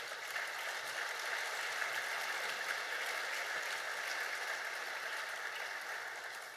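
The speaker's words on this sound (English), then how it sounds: "a big round of applause for our panel" A conference audience applauds a racing and sporting industry panel, with a steady, dense wash of many hands clapping throughout, heard at some distance and fairly soft.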